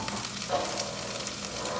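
Spinach and other greens sizzle as they cook down in a hot pan, a soft continuous crackling fry heard close and fairly quiet, with no talking.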